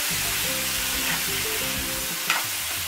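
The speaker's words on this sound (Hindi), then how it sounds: "इन सभी मसालों को हम आलू में अच्छे से मिक्स होने तक इनको बराबर चलाएंगे" Spiced potatoes fry in a pan with a constant bright sizzle while a utensil stirs and scrapes through them in repeated strokes, with one sharp clink near the end.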